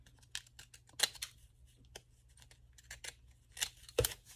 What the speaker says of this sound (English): Barely could cut that, so I'm gonna get my scissors